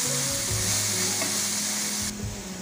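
Turmeric and coriander powder are stirred into a potato mixture frying in a pan, with a constant loud sizzle and scraping spoon strokes close up, easing slightly toward the end.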